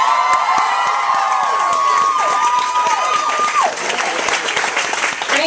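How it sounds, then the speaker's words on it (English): Crowd at a birth control rally applauds and cheers, dense clapping mixed with whoops and shouts, loud and sustained, while a sliding whistle-like tone rings through the first few seconds. "Can we get another round of applause?"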